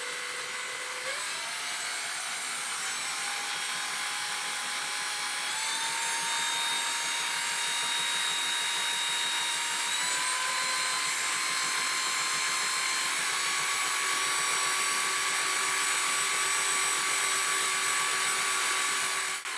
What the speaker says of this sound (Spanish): con un poco de ayuda de un taladro eléctrico